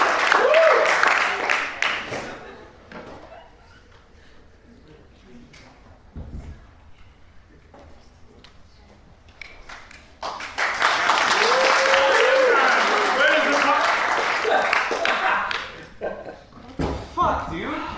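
An audience at a live stand-up comedy show applauds and cheers in two dense bursts, a short one at the start and a longer, louder one later, with voices talking over and between them.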